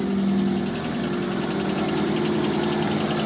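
A VAZ 2110 car engine running at a steady idle, close and loud, with a constant low rumble and an even mechanical hum throughout.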